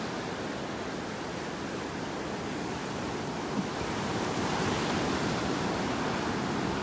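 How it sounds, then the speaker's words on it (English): Waves break on a beach in North Naples, Florida, making a steady, even roar of surf that fills the whole stretch with no pauses and no voices. "right behind where the waves are breaking is where we see them"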